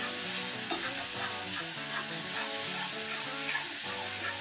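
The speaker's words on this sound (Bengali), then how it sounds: "দিয়ে এবার মশলাটাকে" Egg curry masala sautéing in a pan, a dense continuous sizzle with steady stirring strokes, close and loud with no voices.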